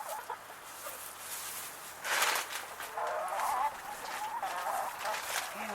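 Hens cluck and murmur softly around a coop spread with fresh straw, with scattered calls over a steady background and no voices.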